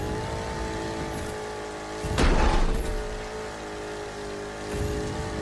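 Monster truck engine in The Crew 2 racing game, a steady loud drone with a brief surge near the middle as a crash or impact bursts over it, then settling back to a continuous roar.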